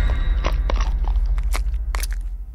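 Crisp crunching and biting bursts as a cartoon character chomps on a lollipop, several irregular cracks over a low steady background hum.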